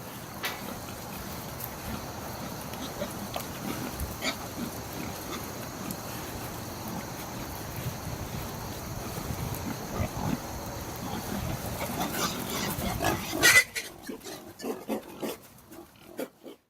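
Grunts, squeals and scuffling from swine fighting for social dominance with flank and neck biting, continuous and fairly close; the commotion peaks loudly near the end, then drops to sparse, fainter clatter.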